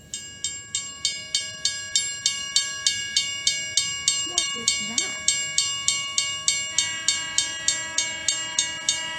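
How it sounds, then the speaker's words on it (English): A train rings a bell in a steady, loud, evenly spaced clang while a sustained whistle tone holds underneath; a voice briefly asks a question partway through. "I hear bells and I hear a whistle"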